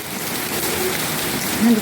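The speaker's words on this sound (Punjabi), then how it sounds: "ਬਾਰਿਸ਼ ਬਹੁਤ ਹੋ ਰਹੀ ਹੈ" Heavy rain pours down steadily, a dense even hiss of drops with no other sounds standing out.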